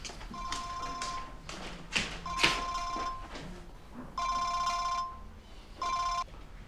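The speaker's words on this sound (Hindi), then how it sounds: "तुम्हारा फोन बज रहा है।" An electronic phone ringtone trills in short repeated bursts, mixed with tapping and light indoor clatter in a Hindi-dubbed drama scene, the rings sounding moderately loud against a quiet room.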